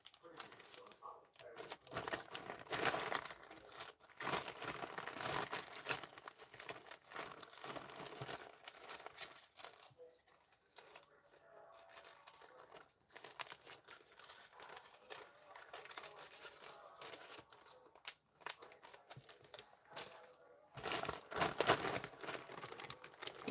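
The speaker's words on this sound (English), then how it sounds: "You can hear all my little bags rustling." Small jewelry bags crinkle and rustle steadily as items are packed during a live gemstone and pearl sale, a close, continuous soft papery rustle with scattered louder crackles throughout.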